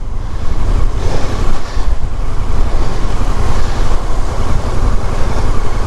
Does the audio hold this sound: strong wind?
yes